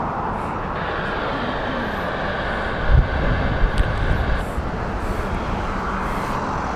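Airbus A350 airliners arriving and departing at Heathrow Airport, a distant steady jet rumble blended with wind buffeting on the microphone and a few brief low thumps.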